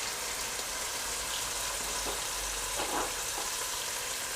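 Split chickpeas (dal chana) frying with crushed chilli, salt and black pepper in a dhaba-style preparation, giving a steady, even sizzle with soft stirring clicks throughout, alone with no talk.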